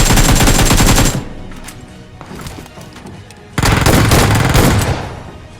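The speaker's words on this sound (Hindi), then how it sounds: "1 HP पे शॉटगन से मारता हूँ सबको" Shotgun fire in the mobile game BGMI, loud dense bursts of blasts in two clusters separated by a quieter stretch of lighter shots and game noise.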